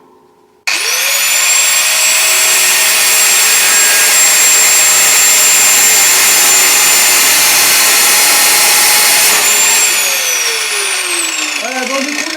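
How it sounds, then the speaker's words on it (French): A loud, continuous metal-cutting whine runs for about eleven seconds while a piece of steel is cut for a homemade trailer, starting abruptly and winding down at the end with a falling pitch as the tool spins down. "Donc là du coup je vais couper un bout de métal là."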